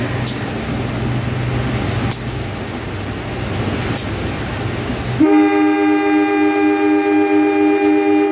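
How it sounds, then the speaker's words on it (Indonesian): Passenger train at an Indonesian station with CC 206 locomotive, rumbling noise that gives way to a loud, sustained horn blast holding steady near the end. "Wah, di sana ada kereta."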